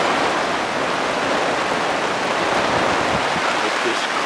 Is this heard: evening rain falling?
yes